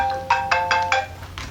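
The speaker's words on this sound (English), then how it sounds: "phone is ringing" Phone ringtone: four quick repeated electronic ring bursts in a steady rhythm followed by a fainter fifth, clear and close over a low hum, with no talk.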